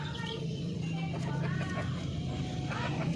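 Darag native chickens cluck softly and steadily, close by, with a faint voice and background noise underneath.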